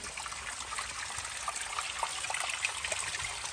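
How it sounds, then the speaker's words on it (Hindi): Water rushes and trickles steadily down a stream by a salt hill near Kalabagh, a dense continuous close wash of flowing water with no speech. "आगे बहुत दूर से पानी आ रहा है"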